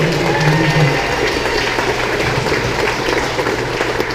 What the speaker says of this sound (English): we want to give them a good round of applause for doing a terrific job